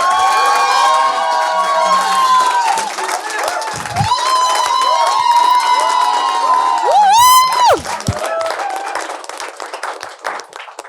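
An audience at a talk-show style event welcomes a guest with applause and cheering, loud and close, with whoops and shouts over the clapping and music-like tones running underneath, fading near the end.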